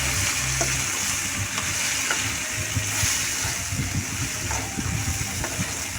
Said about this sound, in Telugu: మనకు సరిపడినంత కారం వేసుకొని బాగా కలపాలి ఫ్రెండ్స్ బాగా కలుపుకోవాలి